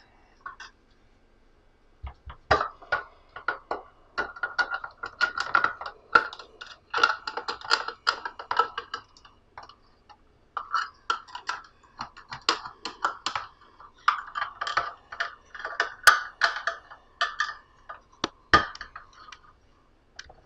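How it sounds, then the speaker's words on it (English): A knife works open a can of ackee, giving close, irregular metallic clicks and taps in clustered bursts over about twenty seconds. "I can't find my can opener, so I'm going to use a knife."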